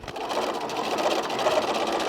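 A sewing machine back stitches seams on a fabric bag, a fast steady mechanical whirring with a faint rhythmic needle chatter, close and continuous without talk.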